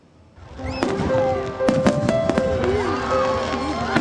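Fireworks at Diwali celebrations in Australia crack and pop in sharp, scattered bursts over a continuous crowd-and-music wash, with voices talking through it.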